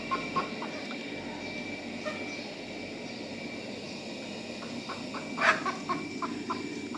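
Three backyard hens cluck in short, scattered calls, moderately near against a steady low background hum, with one louder squawk midway.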